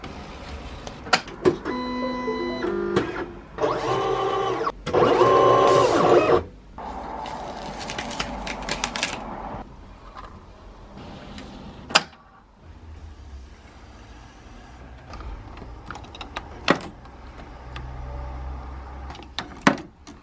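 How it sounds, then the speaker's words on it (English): A printer running off Etsy orders in a home studio: bursts of whirring and feeding, separate clicks and clunks, and long quieter stretches between the jobs. "Just doing some printing"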